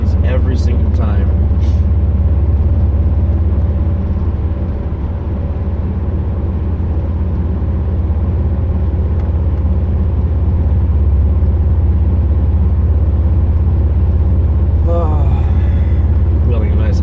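A car drives on US 12 behind congested traffic, its steady, loud road and engine drone running continuously under a person talking throughout.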